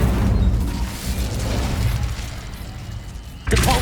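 An Incendio fire spell in the Hogwarts Legacy video game roars as a loud, sustained rumbling burst. It eases off slightly, then a fresh sharp blast hits near the end.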